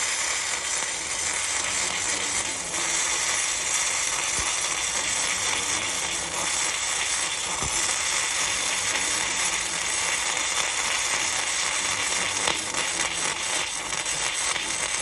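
An Arccaptain MIG 145P welder lays a MIG bead in a continuous, close crackling buzz that runs steadily for the whole stretch, broken by a few sharper pops.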